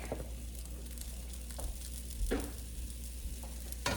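Ground beef sizzles in a hot pan as it is added back in, with a steady close frying hiss and a couple of brief scraping stirs.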